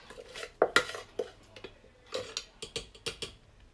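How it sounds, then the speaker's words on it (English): Bread batter being mixed in a bowl with a spatula: close, irregular clinks, taps and scrapes come in short bursts with brief pauses between them. "Put it in a bowl and mix it with a spatula."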